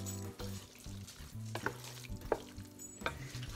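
Pasta stirred through a tarragon cream sauce with roasted vegetables, giving soft wet scrapes and gentle sizzling in the pan, fairly quiet with a few sharper clicks of the utensil against the pan and a low steady hum underneath.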